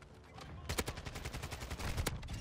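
Rapid automatic fire from a Kastov 545 rifle in the Call of Duty video game, a dense, loud burst of evenly spaced shots lasting about a second and a half.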